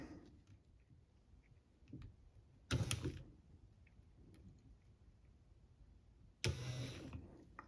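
Two short bursts of mechanical whirring from a Toyota Tundra front window regulator motor run in reverse, each lasting about half a second to a second, separated by quiet ticks and handling noises.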